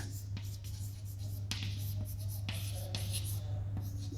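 Chalk or marker writing on a board while explaining a moving coil galvanometer, with a steady room hum beneath and a few sharp taps and scratchy strokes spaced across the moment, close and moderately loud.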